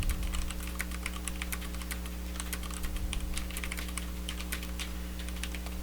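Fingers type code comments on a computer keyboard, a quick irregular run of close, crisp keystrokes over a steady electrical hum.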